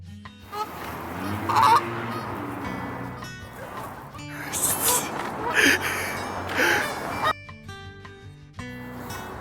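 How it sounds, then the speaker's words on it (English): Several geese in Boston honk loudly and repeatedly nearby, their calls overlapping in bursts. "those geese were literally chasing me."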